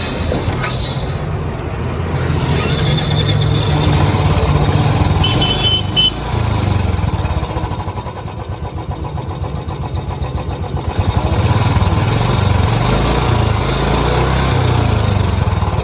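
Royal Enfield Classic motorcycle engine idling steadily after a temporary roadside wiring repair, a loud continuous low rumble throughout with a brief dip in level near the middle.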